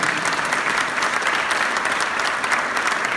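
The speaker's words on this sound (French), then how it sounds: "tu mérites un tonnerre d'applaudissements" A crowd at a company's five-year anniversary evening breaks into loud, sustained applause, a dense, even wash of clapping with no voices over it.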